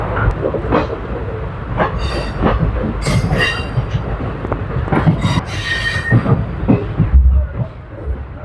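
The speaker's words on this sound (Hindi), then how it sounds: "ट्रेन देखो स्लोली जा रही है" Guwahati–Ledo Intercity Express rolling slowly over flood-restored tracks, with steady low rumble, rattling carriages and intermittent wheel squeals and clacks, continuous and close throughout.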